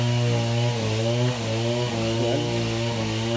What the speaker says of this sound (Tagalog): Medyo maingay yung yung senso, patayin muna natin mga kaibigan.